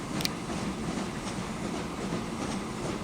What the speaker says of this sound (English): So I see trains go through though.